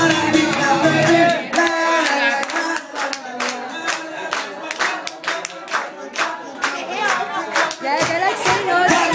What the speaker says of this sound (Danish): Og hør nu her, hvordan vi alle klapper det.